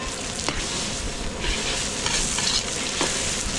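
Garlic, onion and tomato sauté for pinakbet at a large catered event, giving a loud, steady sizzle with occasional stirring scrapes and no talking.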